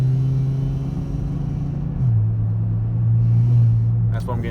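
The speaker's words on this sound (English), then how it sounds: "You hear that little rasp?" A car engine idles with a low, rough exhaust rasp, steady and close, the pitch dipping slightly midway before a brief higher sound at the end.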